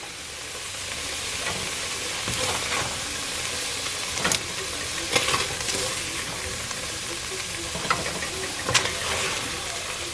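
Beef chunks searing in a Dutch oven for one-pot stew, a steady close sizzle and hiss that runs continuously, with occasional louder pops and spits over the frying.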